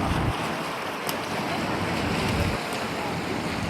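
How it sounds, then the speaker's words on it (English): Estuary water surging up riverside steps, a broad whooshing wash of water mixed with gusty wind buffeting the microphone, swelling and easing in waves with a couple of brief knocks. "That water's just done a great big whoosh all the way up the steps, coming ever closer."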